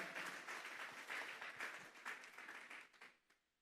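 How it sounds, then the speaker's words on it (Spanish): A church congregation at a Sunday service clapping as an offering to God, a full crowd of hands applauding steadily, then thinning and dying away at the close, fairly faint and with no talking over it. "Vamos a darle esa ofrenda de palmas a Dios en esta hora."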